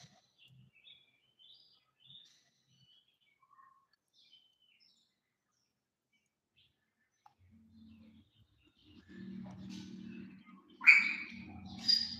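A Bali starling in an aviary gives scattered faint chirps and a couple of sharper calls, sparse against near silence, with a low murmur of background sound near the end.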